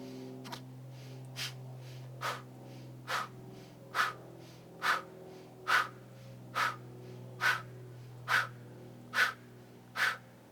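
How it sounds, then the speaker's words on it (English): A person performs the qi gong fanning-the-fire breath, giving eleven short, sharp, evenly spaced exhalations close to the mic over a low steady hum, with no speech. "we're going to gaze up slightly and do the fanning the fire breath. 10 rounds."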